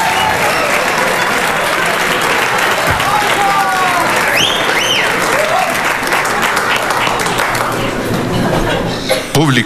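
A studio audience at a comedy show breaks into loud, close applause and cheering, sustained for nearly ten seconds with some crowd voices mixed in before it cuts off abruptly.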